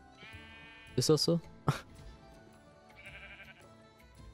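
Two sheep in the Minecraft video game give short bleats, a quick pair then a single call, close and clear over quiet game music while someone talks in German.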